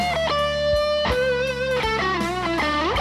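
Electric guitar notes ring out with a reverb effect, each note sustaining and blending into the next across a short played phrase, in a recreation of Stevie Ray Vaughan's 'Sky Is Crying' tone.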